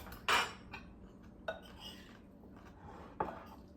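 A small spoon clinks against dishes while black bean and corn salsa is being made, three sharp metallic knocks spaced apart over a quiet kitchen background.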